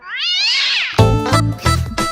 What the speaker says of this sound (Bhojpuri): बिलार।